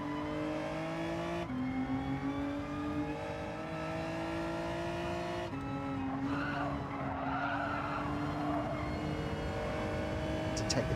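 Gran Turismo 7 race cars at full throttle, with a steady multi-engine drone and a loud tire skid as one car slides off the track in an online daily race, game audio continuous throughout.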